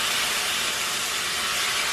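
Vegetable broth poured into a hot pan of broccoli, a steady loud hiss of steam and sizzling liquid that holds unbroken for two seconds with no talking.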